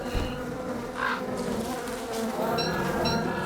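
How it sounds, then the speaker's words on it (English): Bees buzz continuously in the video game Don't Starve, a dense, close insect drone that swells slightly in places, with no talk over it. "they're going after some more bees"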